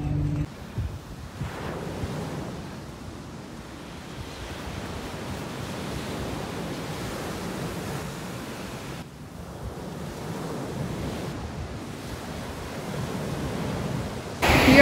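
Ocean surf washing onto a beach south of Edgartown on Martha's Vineyard, a continuous broad rush of waves mixed with wind buffeting the microphone, swelling and easing throughout.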